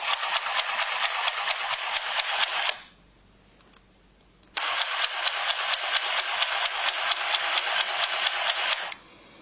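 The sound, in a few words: mini sewing machine stitching fabric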